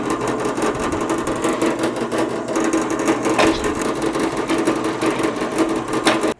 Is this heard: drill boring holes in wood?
yes